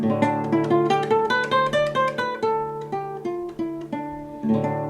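A melodic instrumental line in the Dorian mode, distinct repeated notes over sustained harmony, played at a steady, moderate pace with no voices.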